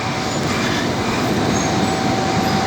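A Sydney commuter train rumbles steadily between Granville and the next station, a loud, close interior drone of wheels on rails with a thin, faint squeal running through it.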